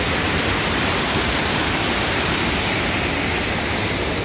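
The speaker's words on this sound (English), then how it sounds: "I was not expecting this big of a waterfall here." A big waterfall in New Zealand roars with a dense, steady wash of falling water, loud and close, with no gaps or other sounds.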